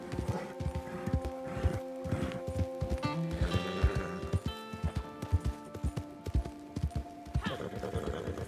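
A horse gallops in Red Dead Online, its hooves pounding in a fast repeating rhythm up close, with a neigh breaking through over rumbling background tones.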